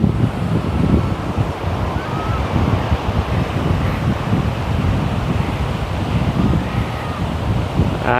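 Sea waves at Arambol Beach in Goa roll in with a continuous broad wash of surf, loud and close, mixed with heavy wind buffeting the microphone.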